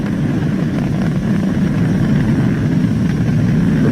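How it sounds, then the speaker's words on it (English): The SpaceX Falcon 9's engines roar during ascent while throttled down, a dense, steady, rumbling wall of noise that holds even and loud for the whole stretch, no voices. "We're throttling down to get ready for the period of maximum dynamic pressure."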